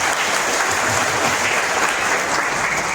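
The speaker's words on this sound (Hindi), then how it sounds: "महिलाएं भले संख्या में कम दिख रही हैं, इनकी तालियां आप लोगों से ज्यादा तेज है" Steady, dense applause from an audience at a lamp-lighting ceremony, with women's clapping standing out, forming a continuous even roar of hands without pause.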